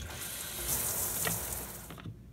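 Shower water runs in a steady, close hiss that cuts off near the end, with no voices over it.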